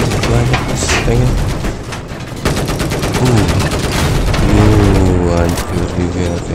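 A tank destroyed in the video game Battlefield 4 amid a tank battle, continuous loud gunfire and booming impacts with mechanical clatter throughout, while someone talks over the combat.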